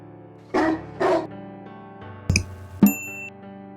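A dachshund gives two sharp barks close by, then a short pause, then two more yips. A bright chime rings out at the end.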